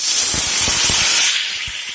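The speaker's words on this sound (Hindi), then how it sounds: "अब इसी में हम प्याज का पेस्ट डाल देंगे।" Onion paste hits hot oil with dried red chillies and bay leaf, giving a loud, steady, close-up sizzle that eases slightly after a second while cooking Bihari-style dal.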